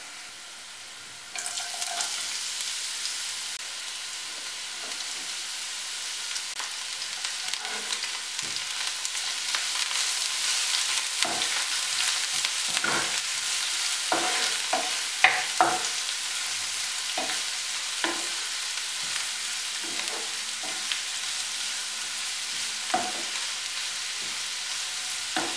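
Chopped cabbage and carrot fry with softened garlic in a pan, giving a loud, steady sizzle that starts sharply after a quiet opening, broken by frequent stirring scrapes and taps, close up with no talk.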